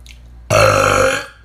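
A single loud, drawn-out burp lasts nearly a second, close and alone, after a brief quiet lead-in.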